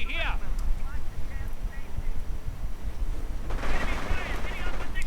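Machine gun fire in a World War II real-time strategy game during a 1v1 match, a rapid crackling burst rising loud near the end over continuous battle noise, with a commentator talking over it at the start.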